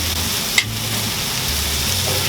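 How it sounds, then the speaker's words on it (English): Tomatoes sizzle loudly in a pan as broth is added. A sharp splash marks the moment, then the frying hiss goes on steady and close. "I like to add in a little bit of the broth"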